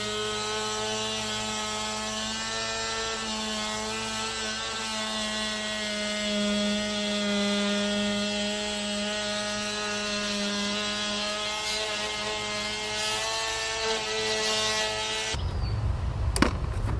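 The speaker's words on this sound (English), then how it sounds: "So if no one's close by to make my rip cuts, I just use a multi-tool." An oscillating multi-tool rip-cuts PVC boards with a steady, loud buzzing drone that holds for about fifteen seconds, then stops abruptly and gives way to a brief clatter.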